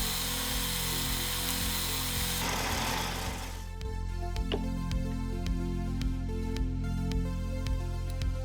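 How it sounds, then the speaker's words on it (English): A slack belt sander fitted with a platen and table as an edge sander runs with a steady motor hum and a rhythmic belt-seam tick, a sanding rasp fading partway through. "I added a platen and a table to convert the slack belt sander into an edge sander"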